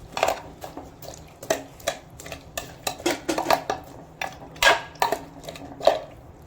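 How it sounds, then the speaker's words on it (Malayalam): A pressure cooker lid is fitted and the cooker is set on the stove for a pulissery curry, producing a series of sharp metallic clanks and knocks at an irregular pace, close and distinct. "ഇനി നമുക്ക് കുക്കർ അടച്ച് അടുപ്പത്തേക്ക് വെച്ചു കൊടുക്കാം"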